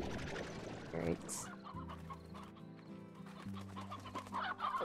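Painted hens in the Slime Rancher video game cluck in a steady run of short, repeated calls over in-game music and ambient sound.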